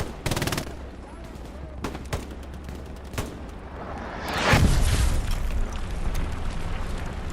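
MG42 machine gun fire in the World War II shooter Hell Let Loose, heard as sharp scattered shots and short bursts, with a heavy boom rumbling up midway and battle noise running throughout.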